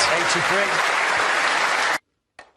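A snooker crowd bursts into loud, dense applause that holds steady, then cuts off abruptly into silence, followed by a brief faint trailing sound.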